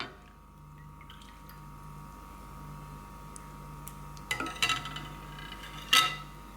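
Pani puri water being stirred with a spoon in a metal vessel: a low steady hum underneath, then a few sharp close metallic clinks and liquid swishes near the end, with no talking.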